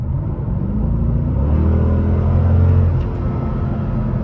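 A sports car engine revs up past its normal range with a low, throaty growl that rises and swells, then eases back to a steady idle rumble.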